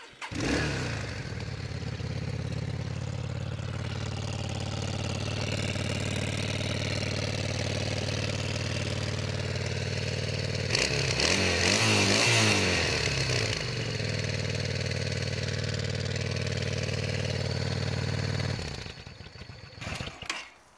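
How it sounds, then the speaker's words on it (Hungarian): A Yamaha XVS 650 Classic carbureted motorcycle engine, started with the choke pulled, idles with a steady mid-pitched chug, revs briefly in a short burst, then settles back to idle before cutting off. "Beindítom a motort, a szivatót azért azt kihúztam, mert egy kicsit lehűlt."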